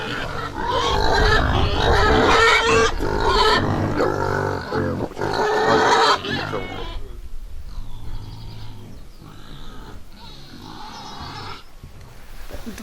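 Wild boar grunting near a farm enclosure as a sow feeds her piglets, with loud, rough grunts and squeals early on giving way to quieter snuffling and intermittent calls.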